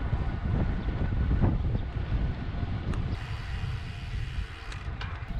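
Wind roars steadily across the microphone while cycling along a riverside bike path, a loud continuous rumbling buffet with no voices.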